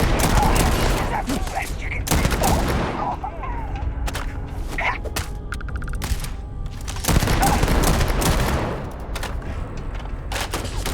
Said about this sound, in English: This shotgun shoots fast, man.